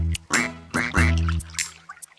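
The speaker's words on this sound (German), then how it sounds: "Ich sehe 5 kleine Entlein. 5 kleine Entlein schwimmen durch das Schilf." Ducks quack in a German children's cartoon song, several loud, close quacks in a quick, bouncy series with short gaps between them.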